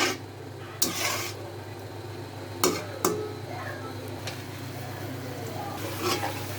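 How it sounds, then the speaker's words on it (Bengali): Spice masala being stir-fried in a pan for a fish and tomato curry, a low steady sizzle with a few sharp scraping clinks of the utensil against the pan. "এখন মশলাটা ভালো করে কষানো হোক। ভালো করে কষানো"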